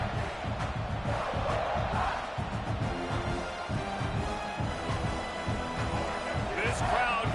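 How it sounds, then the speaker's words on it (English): A stadium crowd at a college football game roars and chants in a constant, dense wash of noise while an announcer talks over it. "This crowd going to try to make life miserable for these guys."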